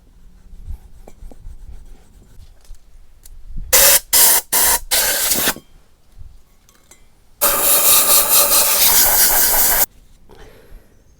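Abrasive scrubbing on the exhaust manifold of a Vauxhall Cavalier with an X20XEV engine, heard as a few short harsh rasping bursts and then one long steady scrub, loud and close with quiet gaps between.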